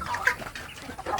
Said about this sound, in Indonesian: Ya, ini untuk kelompok anak ayam kampung saya yang paling besar gitu.